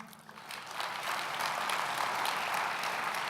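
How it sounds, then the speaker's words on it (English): Applause from an audience at a recreation sports association's opening general session builds from a soft start into a steady, broad wash of clapping, heard at moderate distance. "Let's give Christopher, Nate, and Stacy a round of applause for their outstanding work"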